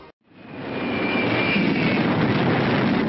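A German bomber's engines drone overhead, a loud and sustained roar that rises out of near silence within the first half second and holds steady.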